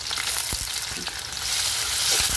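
Spices and garlic paste fry in hot soybean oil for a meat curry, a dense loud sizzling hiss that stays constant throughout, with faint stirring taps and no talking.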